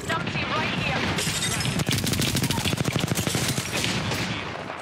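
Rapid gunfire in a squad-based shooting video game, dense bursts of automatic shots crackling steadily through most of the stretch, mixed with game noise and possible voices.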